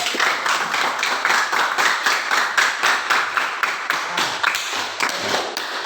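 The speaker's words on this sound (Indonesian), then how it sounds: "kita beri tepuk tangan kepada semua kelompok" A group claps together in a classroom or church study session, with steady, fairly rhythmic hand claps repeating at a quick even pace throughout, close and clear with no talking.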